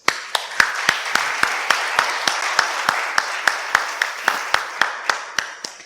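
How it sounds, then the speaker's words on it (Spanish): An audience in a library claps in a steady run of about twenty sharp, evenly spaced claps over a soft background wash, close and fairly loud, with no talking. "así que un aplauso muy fuerte para todos vosotros."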